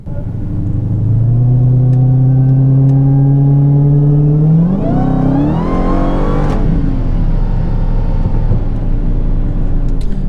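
Dodge Demon on a highway pulls hard, its deep engine note climbing steadily through a gear, then a quick shift and another rising surge before settling into a loud, rumbling cruise.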